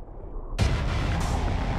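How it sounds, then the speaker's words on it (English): A 1-megaton nuclear surface explosion sounds like a sudden, loud low roar that begins after a quiet rumble and keeps going as a sustained, heavy blast with no voices. "A 1 megaton surface explosion will lift tons of soil up into the mushroom cloud"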